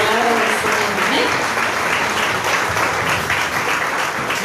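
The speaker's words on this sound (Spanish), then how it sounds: "le damos un fuerte aplauso" Audience applause at a women's church congress: steady, dense clapping from a large crowd throughout, loud and sustained without pause.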